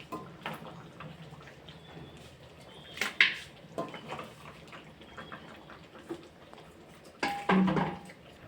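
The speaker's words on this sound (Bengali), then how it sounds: "মাটনটা প্রেসারে অ্যাড করছি" Pieces of mutton go into a pressure cooker, with soft clatters and metallic knocks, a few sharp clinks and a louder scrape near the end, close and fairly quiet.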